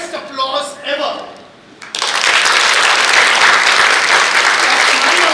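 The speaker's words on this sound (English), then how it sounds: "This entire row, I want to hear the best applause ever." Loud, sustained applause from a corporate awards-gala audience in the Philippines swells abruptly and continues steadily, preceded by a brief moment of someone speaking.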